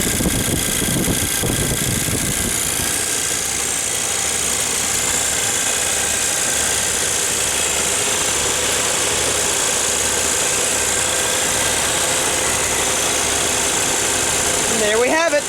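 A 1962 Mercury Meteor engine idles smoothly with its fan spinning, a steady close drone with a whirring hum and no knocks, while a voice speaks briefly near the start.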